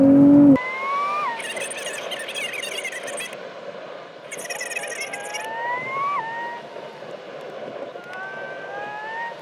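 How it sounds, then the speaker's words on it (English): A 2024 Nissan Z Nismo drives hard on a track. The engine howls and rises through the gears, with short dips at each shift and some tire noise, heard at a steady distance the whole time. "this engine sounds fantastic, and it always has"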